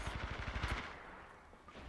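Rapid automatic gunfire in Titanfall 2, a loud continuous burst of fast repeated shots that stops partway, leaving the game's rumbling background.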